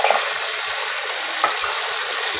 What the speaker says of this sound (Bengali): ভালো করে নেড়ে চেড়ে কষিয়ে দেবো। মশলা দিয়ে তেল ছেড়ে এসছে। এবার ভেজে রাখা আলুটা দিয়ে দেবো।